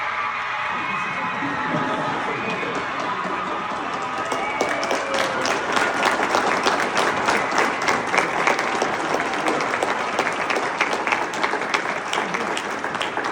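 Indoor audience at a celebration event applauds a teaching award recipient, with steady clapping that swells louder after a few seconds and some cheering mixed in. It carries on continuously with no speech over it.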